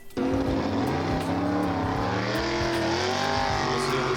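A drag racing car runs down a quarter-mile dragway strip, its engine a loud, continuous roar that climbs steadily in pitch for the whole stretch without pause.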